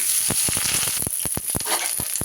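Sliced eggplant frying in hot mustard oil in a pan, a bright continuous sizzle broken by a quick series of crackling pops close up, with no voices.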